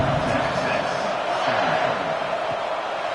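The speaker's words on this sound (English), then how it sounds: "this crowd is buzzing after that last score" A football stadium crowd keeps up a loud, continuous buzz after a score at a college game, a dense roar with no pauses and no single voice standing out.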